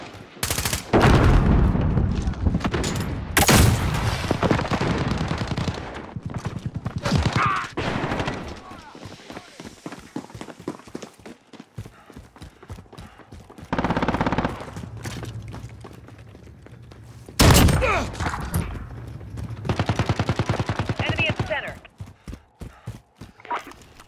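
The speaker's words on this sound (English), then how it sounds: "Precision airstrike ready for gun run." Heavy gunfire from a precision airstrike gun run in Call of Duty: Modern Warfare, loud bursts and rapid volleys coming in waves with quieter gaps, mixed with other battle noise and occasional voices.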